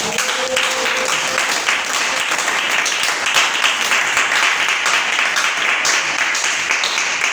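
A church congregation at a night prayer vigil applauds and cheers in praise of the Lord, a dense, steady wash of clapping and voices filling the whole stretch at even loudness.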